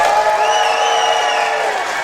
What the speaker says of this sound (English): So please, big Texas round of applause for the legendary Udo Kier.